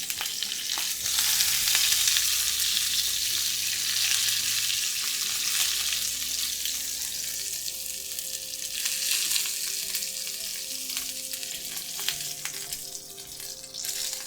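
Venison searing in a hot pan gives a steady, loud sizzle and crackle throughout, with occasional scraping and stirring clatter and no voices.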